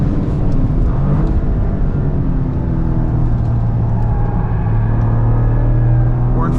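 A 2023 Toyota GR Corolla Circuit Edition laps Road America, its engine droning loud and steady from inside the cabin as revs climb and settle, with a low rumble throughout.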